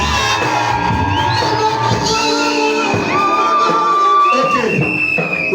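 A church congregation cheers and acclaims loudly, with a dense crowd of shouts, whoops and high excited voices rising and holding steady for several seconds.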